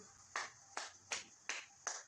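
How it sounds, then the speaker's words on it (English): Five sharp, separate hand claps at a slow, even pace, each crisp and close with a quick decay and near silence between them. "I am clapping."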